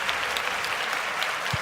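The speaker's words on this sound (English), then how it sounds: "Let's give Nigel a round of applause." A round of applause from a crowd during a live show, steady dense clapping that fills the whole stretch at a fairly loud level, with one low thump near the end.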